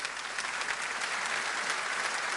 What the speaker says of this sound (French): Je voudrais demander de l'applaudir.